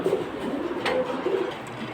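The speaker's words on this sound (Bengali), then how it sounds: "এই যে দেখুন মাশাআল্লাহ, সুন্দর সুন্দর কবুতর" Silver, Jabra and Ro Pankhi pigeons coo softly in low, throaty repeated calls over a steady rustling background, with no one speaking.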